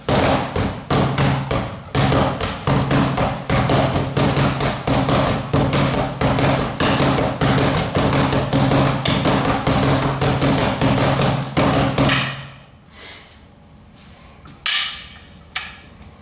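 Rattan sticks clack together in a fast, steady sinawali tapping pattern, loud and close, running continuously for about twelve seconds before stopping into quiet room noise with a brief knock near the end.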